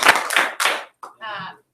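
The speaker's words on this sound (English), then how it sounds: "let's clap 3 on 3 for Mr. Stelk, okay?" An audience gives three loud, broad bursts of clapping in quick succession, each burst a short crash of many hands, followed by a brief voiced sound after a pause.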